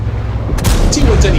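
A single heavy tank cannon shot fires in a World of Tanks-style game, a loud close boom rising abruptly out of a steady rumble of engine and battle noise, with a voice talking over it.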